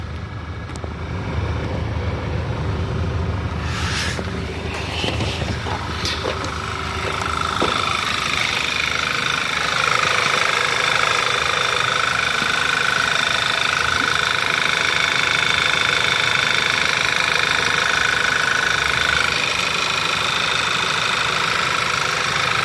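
A 2008 Audi A3 engine idles with a constant mechanical hum and faint vibration, a few brief clanks early on, running continuously and fairly close.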